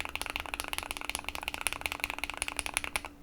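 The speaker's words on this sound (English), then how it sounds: "So some Alpacas right here." Rapid typing on a mechanical keyboard fitted with Alpaca switches: a quick run of crisp, close clacks at an uneven rhythm, with no voices over it.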